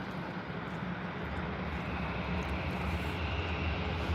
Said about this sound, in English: We're a Jet2 touching back.